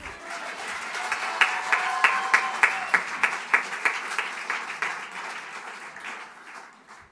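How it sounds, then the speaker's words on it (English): Applause from the audience at the 2022 Educational Publishing Awards Australia ceremony, moderately loud, with some rhythmic in-unison claps in the middle before fading out, and a voice starting to speak at the end. "Applause again."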